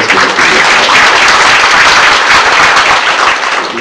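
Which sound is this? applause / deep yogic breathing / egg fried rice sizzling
applause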